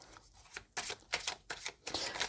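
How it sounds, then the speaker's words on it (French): Oracle cards being shuffled and drawn, heard as close, papery riffling bursts in a quick uneven rhythm, fairly quiet, with no talk. "je vais vous tirer donc les cartes pour vos choix"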